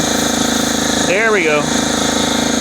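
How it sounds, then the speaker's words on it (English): An air compressor chugs loudly with a steady rhythmic pulse while someone speaks briefly over it. "Sorry for the compressor noise."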